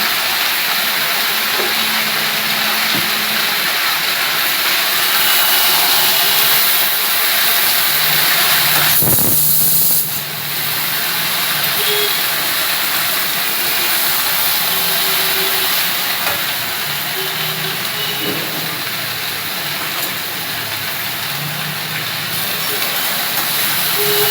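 Potatoes and okra frying in a pan give off a loud, continuous hissing sizzle that stays steady for the whole stretch, with one brief clatter partway through; close and dense, with no voices.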